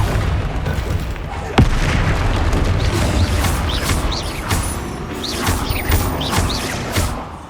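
A Confringo spell in Hogwarts Legacy lands as a sharp, loud boom, followed by sustained rumbling battle effects and whooshes, with a voice heard over the game sounds.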